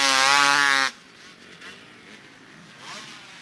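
A Kawasaki motorcycle in a race passes close by with a loud, high-revving engine note that cuts off sharply after under a second, followed by quieter distant engine sounds under a commentator's voice.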